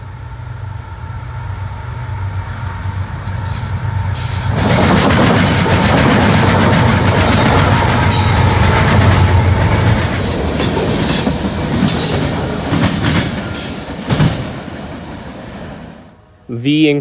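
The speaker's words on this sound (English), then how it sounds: "Next train was CSX, a grainer with 2 GEVOs." A CSX grain train led by two GE Evolution-series locomotives passes close by, a loud rising rumble of engines and rolling wagons with clattering wheels that fades toward the end.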